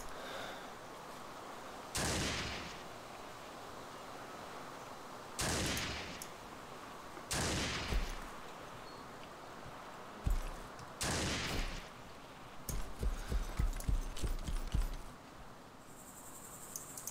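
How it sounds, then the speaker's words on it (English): Gunfire from a heavy weapon in Arma 2 DayZ, a handful of loud, widely spaced blasts and a late rapid burst echoing over a steady bed of chirping crickets outdoors. "there's somebody firing a crazy gun, but I do not see them"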